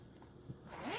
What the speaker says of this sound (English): Zipper pouch.